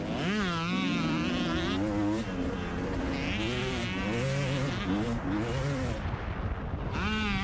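Racing motorcycle engines at Woodland Race Park scream at high revs, their pitch sweeping rapidly up and down as throttles open and close through corners, loud and continuous with a rider's voice talking over them.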